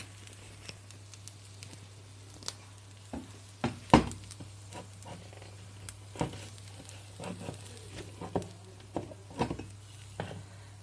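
Grated coconut, ghee and ground cardamom are stirred in a pan: repeated close scraping strokes over a soft, continuous sizzle, with a low steady hum underneath.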